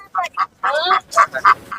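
Ducks at a rural market in Kunnathur, Tiruppur, give a quick series of short, loud, nasal quacks close by, about half a dozen calls in under two seconds.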